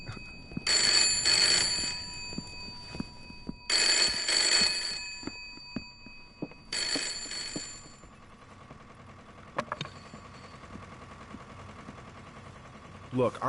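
Three loud bursts of an old-style telephone bell ringing in the horror video game Layers of Fear, each lasting about a second, separated by short pauses, followed by quieter footsteps and ambient creaks.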